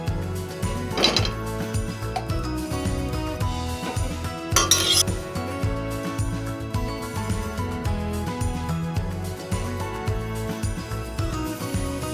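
In a cooking pan, a spoon spreads ghee around and scrapes and clinks against the metal, with a couple of louder scraping strokes over steady background noise.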